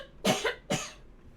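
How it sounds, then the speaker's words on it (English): Two close, loud coughs from one person indoors, each a short broadband burst, followed by quiet. "I need to cough"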